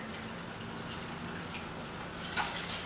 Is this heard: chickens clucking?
no